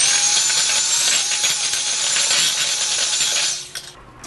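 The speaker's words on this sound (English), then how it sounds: "I'm going to take my hand mixer." A hand mixer beats butter and sugar in a bowl with a steady, bright, whirring buzz that runs for several seconds and then cuts off, with no talking.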